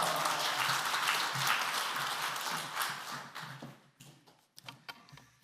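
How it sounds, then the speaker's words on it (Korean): A church congregation applauds in a dense wash of many hands clapping, steady at first and then thinning to a few scattered claps toward the end, moderately distant in a reverberant hall. "할렐루야로 하나님께 영광 돌리고 박수로 환영하겠습니다."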